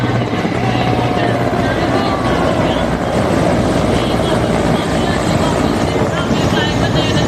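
Military helicopters fly in formation at a Republic Day full dress rehearsal, a loud, steady rotor roar that fills the whole stretch, with a commentator's voice over it.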